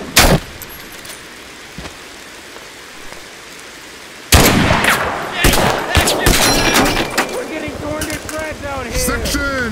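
Gunfire in the war game Mud and Blood: one sharp shot near the start, a quiet stretch, then a dense, loud fusillade of overlapping shots and cracks that keeps going to the end.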